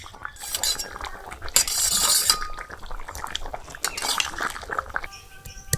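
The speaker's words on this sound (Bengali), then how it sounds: "এবারে মাছ দিয়ে দেবো।" Pieces of catfish go into a boiling curry in a village kitchen, giving clinks of utensils against the pot and liquid splashing and bubbling, close and fairly loud without talk.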